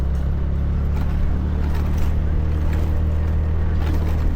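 A scooter engine drones steadily and loudly, with a low rumbling rattle continuing without a break and no voices over it.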